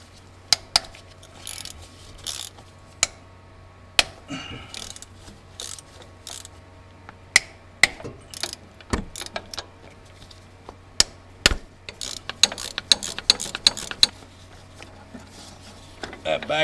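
A ratchet works loose the 11 mm hydraulic swing pump mounting bolts on a Kubota L48 tractor, sparse sharp metallic clicks and clunks separated by pauses, then a faster burst of ratcheting near the end, over a faint steady hum.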